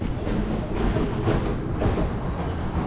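A train rumbles past in a mountain hot-spring village near Taipei, Taiwan, with a steady low roar and faint rhythmic wheel clatter, fairly close and continuous, with no voices.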